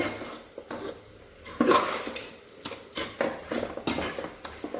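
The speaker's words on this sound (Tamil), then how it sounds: "இந்த சிக்கனை இதில் போட்டு" Washed chicken pieces are dropped into a pot for a chicken curry and stirred, giving irregular clatters and scrapes of a spoon against metal over a low sizzle.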